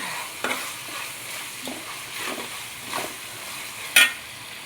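Ginger garlic paste sizzling in a pan as it is stirred, soft scraping strokes repeating over a steady fry, with one sharp clink of a utensil near the end.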